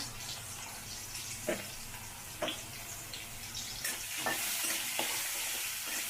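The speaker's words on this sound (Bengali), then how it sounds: "দিয়ে আমি আলুগুলা লাল লাল করে ভেজে নিব।" Potatoes fry in a pan with salt and turmeric for a prawn and pointed gourd curry, a constant sizzle broken by several scraping stirs of a spatula.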